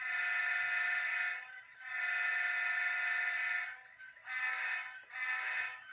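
An HO scale model train locomotive's loud, sustained electronic horn blares in several long blasts separated by brief gaps, with a buzzy, reedy tone.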